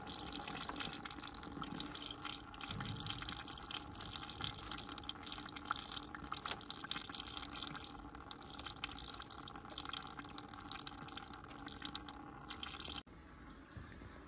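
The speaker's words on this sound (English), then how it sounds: "you can loosen the bottom hose and drain it out here instead." Coolant from a Volvo V70/S60 bottom radiator hose pours and trickles steadily into a container, a continuous close splashing stream that cuts off abruptly near the end, leaving a quieter hiss.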